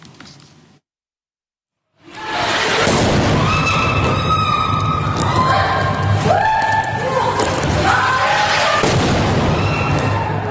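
A bomb explosion from an Israeli airstrike hitting an apartment in Gaza City: after a brief hush, a sudden, loud, sustained roaring blast with deep rumble and chaotic crackling debris that continues at full strength.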